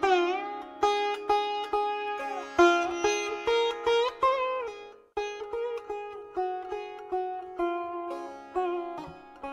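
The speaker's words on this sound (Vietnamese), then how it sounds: "Đàn sitar đấy." Sitar melody with bright plucked notes and a sustained drone, each pluck sharp and rhythmic, the notes bending and gliding along a steady string resonance, played alone without talk.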